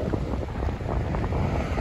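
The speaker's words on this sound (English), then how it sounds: "A little windy this afternoon." Steady outdoor wind buffeting the microphone on a road near Lake Yellowstone, a continuous low roar with gusty fluctuations and no talking.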